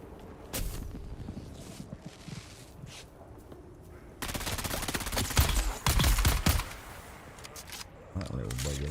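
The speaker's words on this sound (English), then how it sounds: "Who's shooting at me?" Gunfire in the sci-fi survival game Dune: Awakening, with bursts of shots breaking out in the second half and rattling on loud and close, while a voice talks through it.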